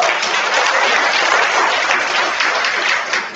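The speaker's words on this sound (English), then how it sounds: "we want to give Microsoft a big round of applause" Sustained applause from an audience honoring Microsoft at a podium event with students, steady dense clapping filling the whole stretch without talk.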